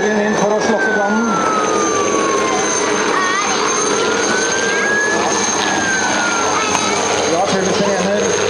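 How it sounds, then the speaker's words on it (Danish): Fire engine heading to a fire at an air show, its siren wailing in slow rising and falling sweeps over loud wind and engine rumble, outdoors. "Ja, fulle sirener."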